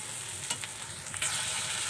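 Hot oil sizzles steadily around a spice paste with a bay leaf and two pieces of cinnamon in the pan, with a couple of brief stirring scrapes, close and loud throughout.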